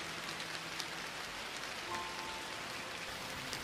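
Steady rain falls on surfaces as a dubbed comedy sound effect, an even, continuous patter and hiss at a soft level with no voices.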